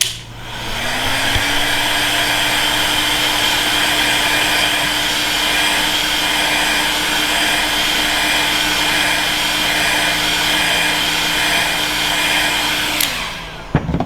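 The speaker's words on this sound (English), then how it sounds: "Put the heat gun on high, and then what you want to do is constantly move it back and forth" A heat gun runs on its high setting, a loud steady whining blower roar with a sustained tone that holds for about twelve seconds before winding down and clicking off.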